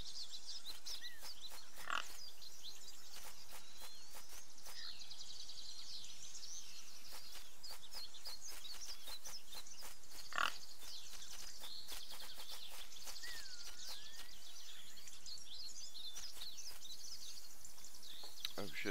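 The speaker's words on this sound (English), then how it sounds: "Maybe we should get this pig." A pig in the video game Craft The World gives short oinks and grunts over a soft game backdrop of bird-like chirps and ambience, with a couple of brief sharper calls standing out.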